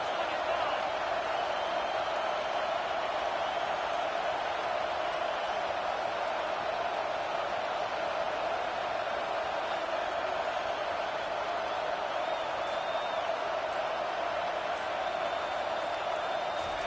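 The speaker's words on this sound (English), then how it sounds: "Big 3rd down as the crowd gets behind this defense." Stadium crowd at a college football game between Texas and Georgia, a steady loud roar of cheering and noise sustained throughout on a big third down, with no break.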